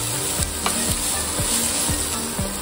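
Finely chopped onion sautéing in a pan for a Maharashtrian dill and fenugreek paratha: a continuous close sizzle with regular scraping stirs about every half second, no voices.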